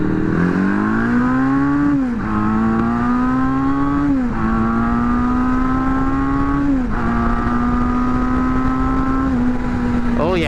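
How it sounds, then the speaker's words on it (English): A Honda CB750 motorcycle is pulled hard in first gear with a slipping clutch: loud, close engine drone whose pitch rises and sags over several stretches as revs climb and dip, with wind noise over the rider's recording. "Oh yeah, this clutch is slipping big time"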